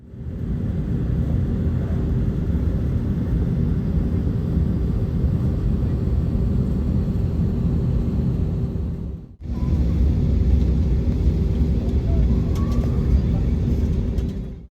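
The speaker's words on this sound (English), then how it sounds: "We also got a great view of this Spirit A321neo that was parked next to us as it pushed back." A Spirit Airlines A321neo jet pushing back on the ground at Fort Myers airport, heard as a steady loud engine and airframe drone from nearby, broken by one brief dropout before the hum resumes.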